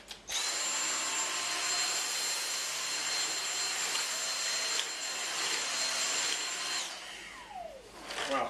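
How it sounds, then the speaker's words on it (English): A Dyson DC59 Animal vacuum cleaner with its brush bar running, picking up caraway seeds and lentils from a hard floor: a loud, steady high-pitched whine with light rattling of debris and a brief change in pitch near the end. "Now let's try the caraway seeds and the lentils on a hard surface"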